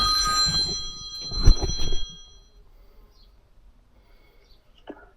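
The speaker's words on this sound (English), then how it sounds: "so I just got a phone call about another potential free clean for the community" A telephone rings with an incoming call inside a van being fitted out for pressure washing. A bright, tonal ring sounds near and clear amid some clatter for about two seconds, then fades to near silence.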